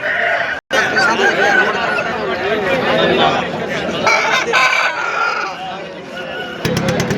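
A fighting rooster crows amid lively chatter and clucking from other birds close by at a Sunday poultry market, with a brief dropout early on.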